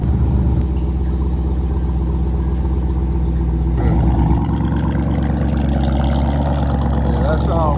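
Modified Jeep SRT exhaust rumbling loudly and steadily with a deep low drone, shifting in tone partway through as the revs change, with voices talking over it.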